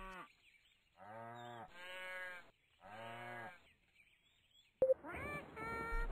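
Cows in a McDonald's video game give three long, distinct moos separated by short pauses, followed by a sharp click and a final low moo, all clear and close with no speech.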